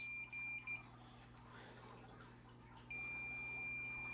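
A continuity meter beeps while fan wiring is tested on a vintage Corando 8-inch fan, a faint steady tone that cuts in briefly near the start, stops, then returns and holds over a low hum.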